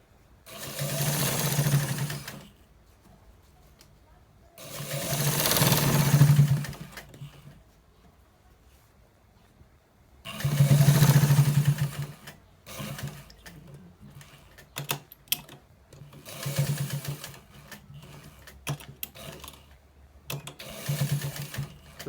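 A sewing machine stitching lace into a trouser waistband, running in several short bursts of rapid whirring with quiet pauses between, close and fairly soft.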